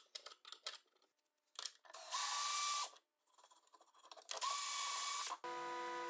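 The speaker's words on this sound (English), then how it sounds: "I drill with a bit and use a tap to thread it." A power drill with a bit bores holes for locking a fence extension on a DIY folding outfeed table, heard as two sustained whirring bursts of a couple of seconds each, separated by short clicks and handling noises.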